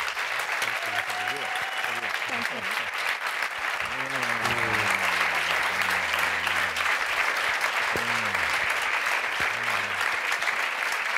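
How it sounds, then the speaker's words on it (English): Steady applause from an audience greeting a podium of speakers at a talk on the Green New Deal and post-growth, continuous throughout while someone speaks over it. "A big hand of applause to our podium."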